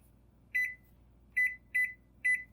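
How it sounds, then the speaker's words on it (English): Four short electronic microwave beeps, clear and close, the first alone and the next three in a quicker sequence, in otherwise quiet surroundings. "I'm going to get these in the microwave for about 10 to 12 minutes"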